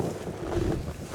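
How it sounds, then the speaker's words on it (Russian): Strong wind buffets a microphone on open tundra beside a lake, a steady, loud, low roar with gusty rumbling and no voices. "Ну, ветер не дает снимать."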